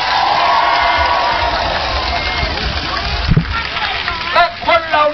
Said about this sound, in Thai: ปรบมือให้กำลังใจครับพี่น้องครับ